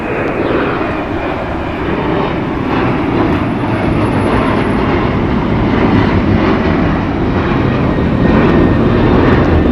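An American Airlines Boeing 737-8 jet departs LAX with a loud, continuous engine roar that builds gradually over the whole clip, heard without talking.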